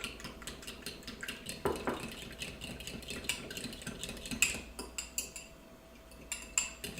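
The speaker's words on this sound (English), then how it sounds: "We're gonna use a fork. I'm gonna give this a stir." Fork stirring warm water and yeast in a bowl, with repeated quiet clinks and scrapes of metal against the dish in an uneven rhythm, close and soft.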